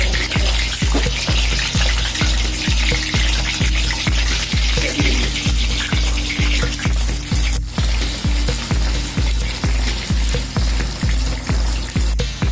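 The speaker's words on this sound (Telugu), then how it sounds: "ముక్కల్ని వేయించడానికి నూనె వేడెక్కిన తర్వాత ఆ పిండుకున్న ముక్కలని ఒక్కొక్కటిగా వేసి" Bottle gourd pieces fry in a pan of hot oil, a continuous close sizzle punctuated by a steady, regular series of soft thumps throughout.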